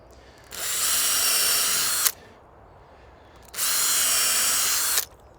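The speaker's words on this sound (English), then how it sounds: "Again, we're just pre-drilling just to stop the wood splitting." A power drill pre-drills pallet wood boards for a handmade chair, two sustained whirring bursts of about a second and a half each separated by a short pause, close and loud with no talking.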